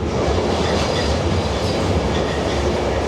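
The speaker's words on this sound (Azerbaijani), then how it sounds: "Hal-hazırda Qatar hərəkət edir." A moving passenger train from Montenegro to Serbia produces a steady, loud rumble of wheels on rails with a continuous clickety-clack, heard from inside the carriage.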